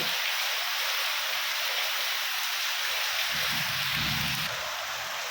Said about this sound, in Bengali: এত পরিমাণ বৃষ্টি হইতেছে দেখেন বৃষ্টির সাউন্ড শুনে বুঝছেন